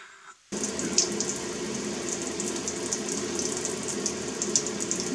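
Tap water runs steadily into a darkroom print wash after a brief quiet start, a continuous broadband splashing rush that stays close and even for the rest of the clip.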